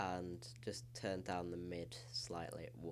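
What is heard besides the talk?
None of the usual background noises is heard.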